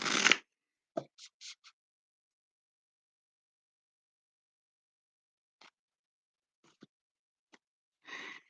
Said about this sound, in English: the cards I will be using tonight are the Sacred Spirit Reading cards by Anna Stark